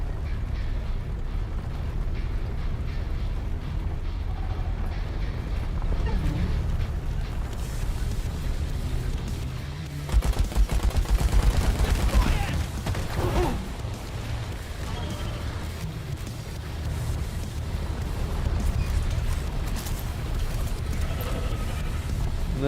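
Rockets firing and exploding in a combat video game, with low rumbling blasts and a burst of sharp crackling detonations midway over steady game noise, while someone talks intermittently over it.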